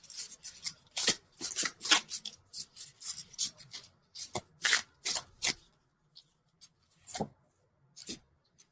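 Tarot cards being shuffled and drawn from a universal love deck, a run of close papery riffles and slides that thins to a few scattered card flicks near the end, with no voices.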